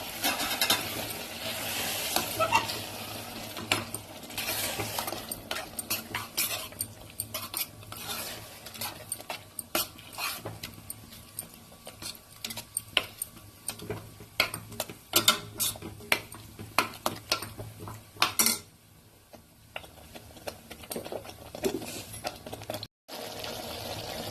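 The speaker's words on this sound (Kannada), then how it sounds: "ಟೊಮೊಟೊ ಗೋಡಂಬಿ ರುಬ್ಬಿಟ್ಕೊಂಡಿದ್ವಲ್ಲ ಅದು ಹಾಕೊಂಡ್ಬಿಡೋಣ" Thick ground tomato and cashew paste goes into a pan of mushroom gravy, with steady scraping and stirring clatter against the pan and a continuous sizzling wash underneath, fairly close and busy throughout, no voices.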